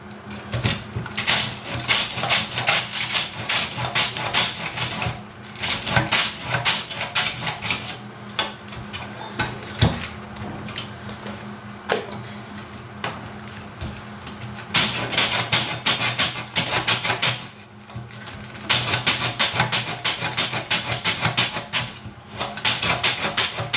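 Cabbage is shredded into thin slices for sauerkraut, giving rapid rhythmic bursts of crisp cutting strokes that start and stop in runs, close and fairly loud, with short pauses between passes and no speech.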